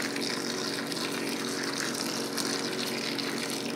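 Continuous rushing gush of steaming boiling water poured over carp fishing boilies, a dense, even splashing roar with no pauses.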